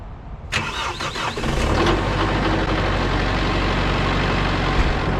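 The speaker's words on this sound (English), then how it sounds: "Cold start, been probably a couple of weeks since I ran this thing." A Kubota tractor's diesel engine cold-starts after sitting for a couple of weeks: a brief cranking whir catches and settles into a steady, loud, rumbling idle close by.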